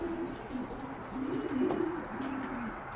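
Pigeons coo in soft, repeated low warbling phrases at close range, rising and falling in short bursts over a faint background hiss.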